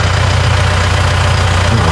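A tractor engine runs at a steady loud idle with a deep continuous rumble and slight knocking vibration, unbroken throughout.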